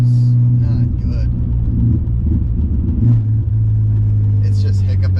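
A BMW E34 535i engine that runs poorly and lacks power gives a deep, loud rumble that surges and dips unevenly, with voices talking over it.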